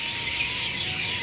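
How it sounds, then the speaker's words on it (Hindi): Many birds gathered on a pole at dusk chirp together in a dense, continuous high twittering chorus, loud and close, with no talk. "चिड़िया की बहुत आवाज़।"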